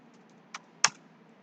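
A computer keyboard typed on, a few sparse, close key clicks, the last one sharper, over a quiet background.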